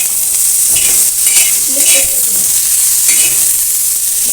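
Bitter gourd slices fry in plenty of oil, giving a steady, loud sizzle with soft scrapes of stirring throughout and no voices.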